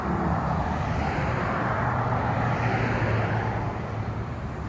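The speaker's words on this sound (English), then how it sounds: "Pretty sweet truck." A Kenworth T680 truck rumbles past nearby in a steady, loud low drone of engine and road noise, with no voices heard.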